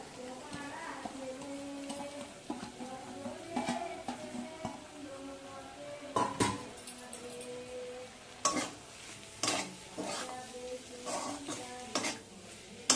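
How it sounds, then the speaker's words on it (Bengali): Fried vegetables are tipped into a cooked spice mix and stirred in a pan for a vegetarian roll filling. A spoon scrapes and clatters against the metal over a soft sizzle, in scattered knocks and strokes, with a voice talking over it. "মশলাটা হয়ে গেছে, আমি ভাজা রাখা সব সবজিগুলো দিয়ে দেবো এখন।"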